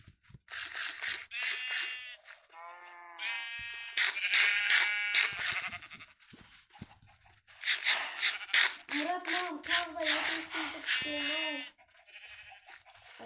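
Sheep in Minecraft give repeated short, nasal, bleating calls in clusters over several seconds, while a young player talks at times among the blocky game sounds.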